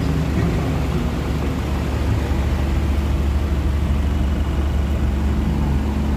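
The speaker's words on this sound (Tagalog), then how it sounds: "Traffic dito sa may Calamba exit." Road traffic near the Calamba exit, heard from inside a moving vehicle: a dense, steady low engine and road rumble with broad noise, loud and unbroken throughout, no talk.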